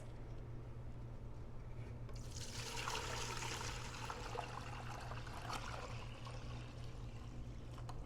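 Starchy water from making tapioca flour pours steadily into a container for several seconds, a close trickling splash over a low background hum.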